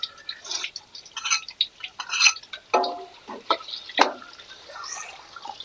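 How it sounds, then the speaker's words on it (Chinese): Meat fries in a pot of oil for homemade chili sauce with fermented black beans while being stirred, giving irregular spattering crackles and scraping bursts with occasional clinks of the utensil against the pot, close and moderately loud. "先把肉炸一下"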